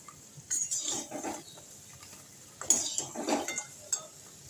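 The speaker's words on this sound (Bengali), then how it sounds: "এইভাবে করে নাড়তে থাকতে হবে যতক্ষণ অবধি চিনির রসগুলো শুকনো হচ্ছে।" Fried nimki being stirred in sugar syrup in a pan, giving two bursts of scraping clinks of a utensil against metal, the pan knocking lightly in between, fairly close with a quiet background.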